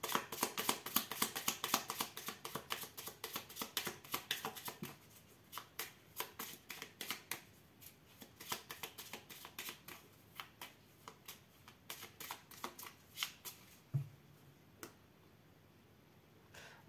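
A deck of Gypsy tarot cards is shuffled by hand, giving a long run of quick, close, crisp riffling flicks that come in bursts, loudest at the start and thinning toward the end, with no talking.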